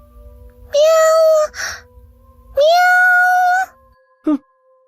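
A human voice imitates a cat, giving two loud, drawn-out meows close to the listener, then one short, clipped meow.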